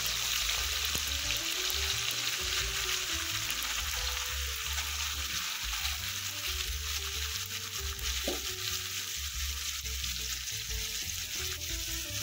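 Chicken marinated with salt and frying in a pan with two bay leaves and a dried chili, a loud continuous close sizzle with occasional soft stirring, no one talking.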